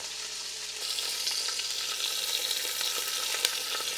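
Big chunks of corned beef sear in a pot with a steady, bright sizzle that swells after the first second, close and continuous, with faint crackles and no speech.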